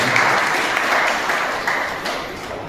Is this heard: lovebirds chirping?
no